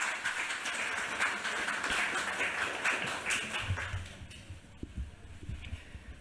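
An audience at a literary event claps to welcome three writers, a dense wash of applause that fades out over the last couple of seconds.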